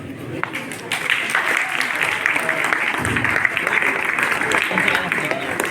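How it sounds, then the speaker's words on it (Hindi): School children clapping together at a school youth day function, a steady wash of many small hands with sharper individual claps poking through, while an adult voice speaks over it. "कुछ बच्चे ऐसे हैं जो सही ताली बजा रहे हैं जैसा सिखाया गया है"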